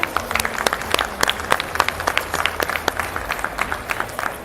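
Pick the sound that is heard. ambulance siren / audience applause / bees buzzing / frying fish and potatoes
audience applause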